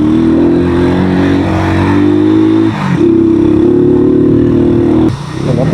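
A motorcycle in first gear climbs a rocky mountain road, its engine a loud, close, steady drone that dips briefly as the throttle is eased, then holds again before dropping off at the end.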